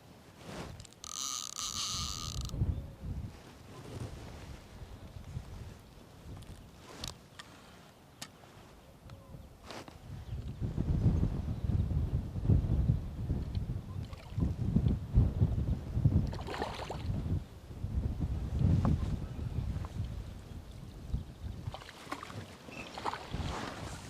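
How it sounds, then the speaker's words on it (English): Wind gusting across an open fishing lake, a broad rumbling buffet that builds and stays strong through the second half, with occasional light handling sounds nearby. "In this wind."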